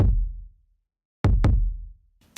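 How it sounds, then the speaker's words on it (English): Layered kick drum samples played together in a pop instrumental remake: three deep, punchy booms, one followed by a pause and then two in quick succession, each decaying into a low tail before a faint tick at the end. "So that's the kick drum, right?"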